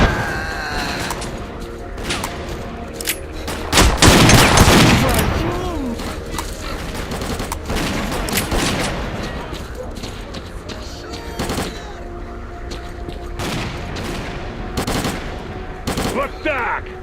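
Bursts of automatic gunfire and shots in STALKER: Clear Sky, loud and close, with rattling volleys and a heavy boom early on, scattered sharp reports continuing throughout under faint background ambience.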